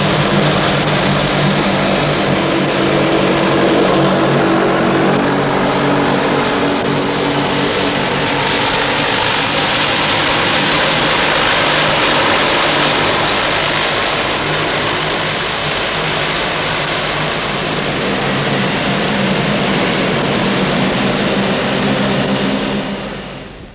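A propeller aircraft flying relief supplies from Bangkok to Phnom Penh drones loudly and steadily throughout, its engine roar unbroken for the whole stretch before cutting off at the end.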